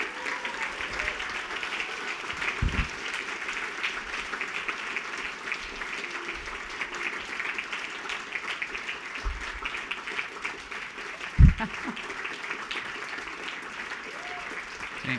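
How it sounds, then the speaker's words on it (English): Applause from an audience at a housing summit closing session, a steady broadband patter of clapping held at moderate level for about fifteen seconds with a few louder isolated claps and murmured voices beneath. "a big round of applause"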